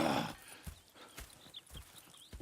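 Horse hooves clip-clopping in Red Dead Redemption 2, a few soft, spaced hoofbeats on a quiet track after a brief louder opening burst.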